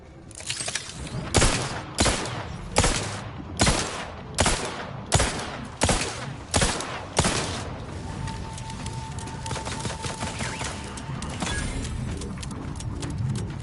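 Sentry turrets in The Outer Worlds 2 fire a run of about ten loud, evenly spaced bursts, then fall quiet into a low hum and scattered game noise.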